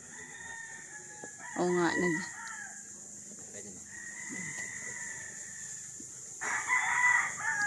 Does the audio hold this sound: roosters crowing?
yes